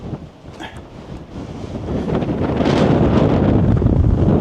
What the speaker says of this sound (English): the wind's blowing this direction